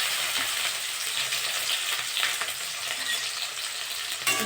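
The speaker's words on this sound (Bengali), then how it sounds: "আমি এবার পেঁয়াজ আর কাঁচা লঙ্কা দিয়ে দেবো।" Onion and green chili sizzling in hot oil with cumin seeds, a steady bright crackle with occasional stirring scrapes, close and continuous with no talking.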